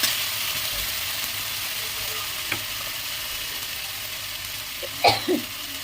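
A spice paste of ginger, cumin, chilli and coriander goes into a chicken curry in a hot pan, giving a loud continuous sizzle and hiss with a couple of faint clinks and stirring knocks near the end.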